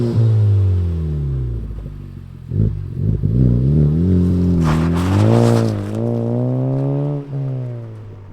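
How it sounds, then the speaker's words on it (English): A modified 2019 Honda Civic Type R FK8 engine idles with a deep burbling exhaust note, then revs up several times in rising and falling swells, close and loud. "let's fire up Steven's FK8 Type R and hear that exhaust"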